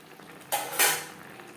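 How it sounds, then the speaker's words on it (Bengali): A spoon stirs ghee and garam masala powder into a paneer and broccoli gravy in a pan, a short burst of scraping and stirring that swells briefly and then fades, with no talk. "ঘি ও গরম মশলা পাউডার গ্রেভির সাথে বেশ ভালো করে মিক্সড করে দেবো।"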